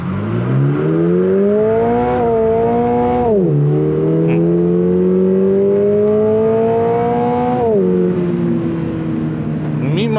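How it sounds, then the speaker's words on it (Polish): A 2023 Toyota GR86 Dynamic with automatic transmission accelerates hard from a standstill under paddle shifts, its engine note climbing steadily then dropping sharply at each of two upshifts, loud and close throughout. "zobaczymy, trzecia próba, jak ten samochód przyspieszy ze startu zatrzymanego"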